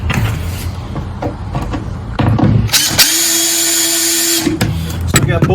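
A power drill whirs as it drives a screw into a wooden board during a ramp launcher build, with short bursts and then one steady, loud run of about one and a half seconds, followed by more brief bursts.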